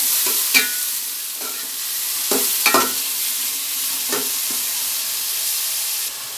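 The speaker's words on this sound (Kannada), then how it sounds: "ಈಗ ಈರುಳ್ಳಿ ಹಾಕ್ಕೊಳ್ಳೋಣ ಮಿಕ್ಸ್ ಮಾಡ್ಕೊಳ್ಳೋಣ" Onions frying in a pan for millet vegetable upma: a continuous soft sizzle with several scraping stirs of a spatula at irregular intervals, close and fairly loud.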